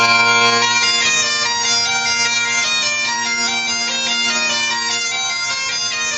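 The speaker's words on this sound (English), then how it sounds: "Can you name this bagpipe song?" A steady bagpipe drone carries a shifting, insistent melody of a rock song, played loud and close without pause or talking.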